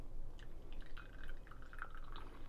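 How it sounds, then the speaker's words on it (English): Water trickles and splashes as 20 grams are poured over coffee, a soft uneven stream with small drips, quiet and close. "I'm gonna add another 20 grams of water."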